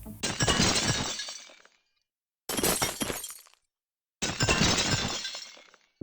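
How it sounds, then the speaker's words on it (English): Three bursts of brittle crackling and splintering, like ice fracturing, a video game frost build-up sound effect, each lasting about a second with short silent gaps between them. "For the frost build-up sound effect, I made this simple ice crackling sound."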